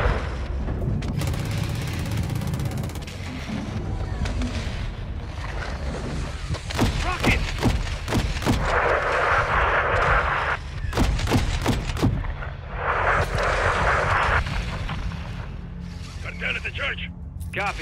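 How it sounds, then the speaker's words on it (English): Booming RPG blasts and bursts of rifle and machine-gun fire in the Modern Warfare 2 campaign, loud and repeated in sharp volleys, with military radio chatter and shouted voices running over the combat throughout. "Shadow 1, we're taking RPG fire from the east."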